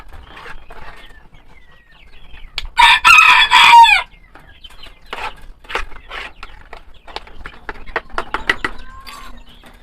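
A rooster crows loudly once near the start, and backyard chickens keep up scattered, close clucking and short calls before and after.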